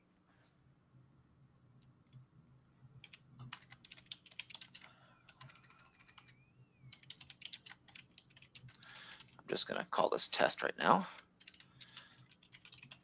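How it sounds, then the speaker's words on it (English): Quick clicky typing on a computer keyboard, scattered at first and then a loud dense burst near the end, with someone talking quietly over part of it. "Typing too fast here."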